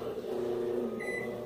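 Microwave oven heating a cup of water, a low steady hum running alone throughout, quiet, with a brief faint high tone near the end.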